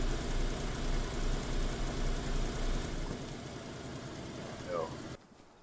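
A car engine runs steadily as it drives along, a low rumbling drone that drops and quiets partway through before cutting off near the end.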